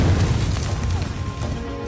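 Heavy gunfire and booming cannon blasts from a Civil War battle at Gettysburg, a dense, continuous rumble of explosions and crashes with no clear gaps, loud and close throughout.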